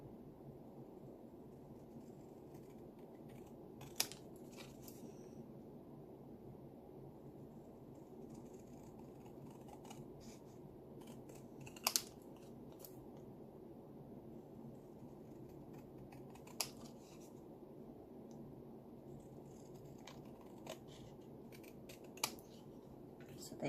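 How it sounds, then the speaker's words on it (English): Scissors snip through paper scraps while ephemera is trimmed for a craft project, giving a few faint, sparse, sharp cuts over a quiet room hum with no talking. "I'm just going to cut between the two, and then I'm going to trim this out."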